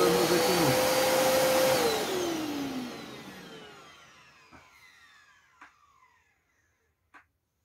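A vacuum cleaner, used as part of a homemade mouse trap, runs loudly and then winds down over several seconds, its motor pitch falling as it fades out, followed by a few faint clicks and knocks.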